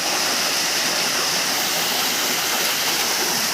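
Water gushes from a solar-powered farm pump motor drawing from a well, a steady, loud, close rushing flow that continues without a break.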